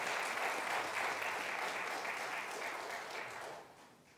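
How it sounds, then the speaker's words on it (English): A church congregation at a Christmas Day service applauds its musicians, a steady wash of many hands that sounds somewhat distant and fades out near the end. "Can we give them a round of applause again?"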